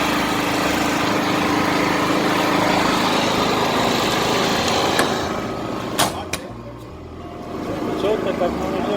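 A Kirloskar iGreen petrol portable generator runs nearby with a steady buzzing drone that eases down and fades near the end, with a couple of sharp clicks and someone talking over it.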